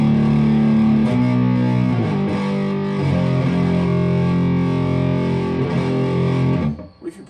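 Electric guitar through a distortion pedal on its white setting, a loud saturated sustained chord tone with a few shifting notes, holding for about seven seconds before cutting off abruptly.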